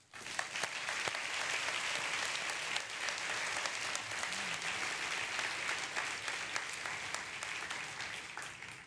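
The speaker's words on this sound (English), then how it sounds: "So let's give them a round of applause." Sustained applause from a large audience at a women-in-technology award ceremony, a broad continuous wash of clapping with a few sharper individual claps standing out, steady and fairly close throughout.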